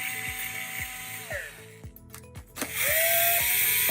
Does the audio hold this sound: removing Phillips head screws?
yes